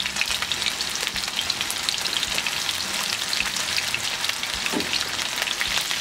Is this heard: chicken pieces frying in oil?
yes